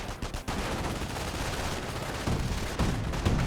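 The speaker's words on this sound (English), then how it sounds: "Sniper is firing away." Sniper and squad rifles firing in the Company of Heroes 1 real-time strategy game, with dense continuous battlefield gunfire and heavier impacts toward the end.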